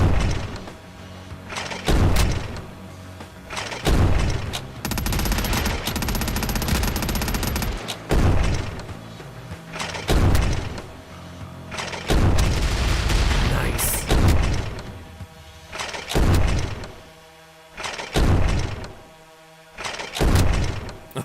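Gunfire in the indie survival shooter Quarantine Zone, with repeated bursts of loud, close shots spaced through the clip and brief quiet gaps, while voices talk over the game sounds.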